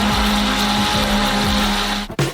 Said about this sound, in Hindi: हम इसे एक ब्लेंडर के साथ अच्छी तरह से बीट करेंगे।